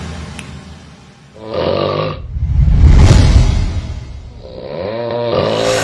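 Loud, close snoring: a rough nasal snort followed by a long rumbling inhale and another raspy snore, with no talking.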